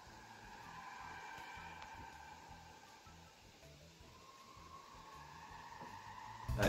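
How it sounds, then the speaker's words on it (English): A car drifting and doing donuts in a car park, heard faintly from a distance: a low, wavering engine drone with rising and falling tire squeal, ending in a brief louder burst of noise. "that sounds like someone's like drifting. Doing some donuts in a car park or something"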